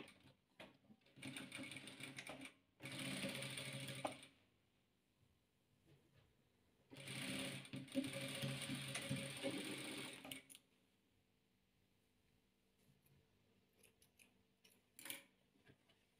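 Sewing machine stitching patchwork quilt pieces together, with two long bursts of steady whirring stitches separated by pauses and a few small mechanical clicks between runs.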